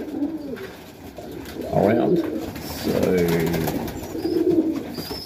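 Highflyer pigeons coo in a loft in several throaty, rolling bursts close by, with someone talking over and between the calls.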